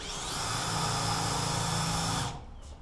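A power drill bores a small dimple into steel to hold lubricant before tapping, a steady high whine lasting about two seconds before it cuts off, close and loud.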